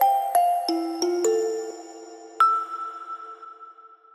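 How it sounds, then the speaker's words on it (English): A simple, gentle kalimba melody of plucked metallic notes, each ringing out and decaying, with a sustained tone lingering at the end. "In the break, we have a chill, simple melody made with a kalimba"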